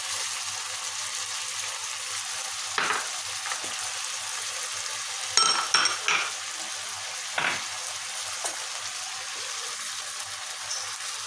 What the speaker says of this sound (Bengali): চিকেনটা আর কিছুক্ষণ ভেজে নিব।